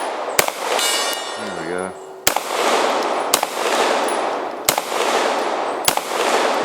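Sharp, loud 1911 pistol shots fired outdoors, five reports spaced about a second apart, each followed by a brief ringing decay, with a short spoken phrase between the first two.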